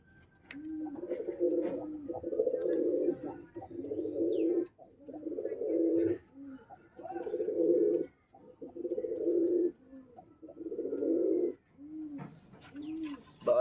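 Pigeons cooing up close in a series of long, throaty rolling phrases separated by short pauses, repeating steadily with light background rustle and no speech.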